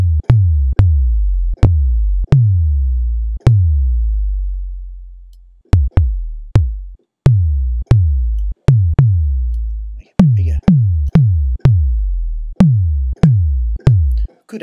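Synthesized tom-tom hits built from a resonating filter on a sine wave, compressed for less thump: about twenty separate booming strikes with decaying low pitch, some left ringing long, others cut short, loud and alone.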